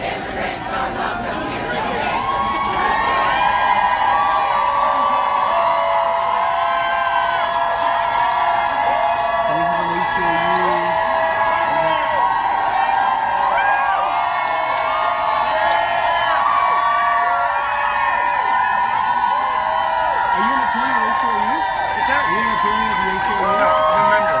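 A loud protest crowd at an airport demonstrating against Trump's immigration ban on Muslim immigrants and refugees, dense chanting and shouting voices filling the space continuously, close and unbroken throughout.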